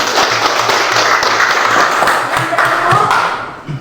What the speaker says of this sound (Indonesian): tepuk tangan dulu untuk ini